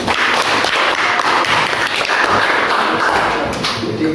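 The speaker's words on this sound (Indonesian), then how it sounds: "Terus tepuk tangan untuk kalian semua." A classroom of students claps together, a close, busy patter of many hands with scattered sharper slaps, loud and sustained for a few seconds with no talking.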